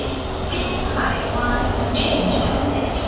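A Singapore MRT train runs along the track, a loud steady interior rumble with faint squeals and brief hissing bursts, no voices heard.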